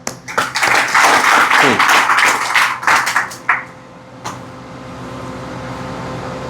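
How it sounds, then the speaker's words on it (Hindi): A burst of clapping from a small group, dense for a few seconds then tapering off into a scattered clap or two and quiet room noise. "जोरदार तालियां अपने लिए बजा दो"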